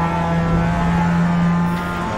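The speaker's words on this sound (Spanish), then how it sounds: "Qué guapo como suena el coche, ¿no?" Race car engine in the iRacing video game, a sustained steady drone at constant pitch, loud and close throughout with no talk.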